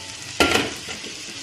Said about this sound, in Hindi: ये देखिए ये प्याज बस इतनी करनी है, हल्की सी सौते हो गई है।